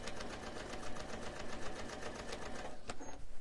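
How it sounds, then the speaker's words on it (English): A sewing machine runs steadily, quilting decorative stitches around a semicircle on a fabric panel, its rapid needle rhythm whirring close and continuous before slowing near the end. "I'm going to stitch all around this semicircle because you're just quilting it now, literally decorative"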